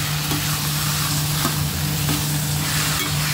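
Chicken and mushrooms sizzle steadily in a hot pan, a constant crackling hiss with a low hum underneath and no talking.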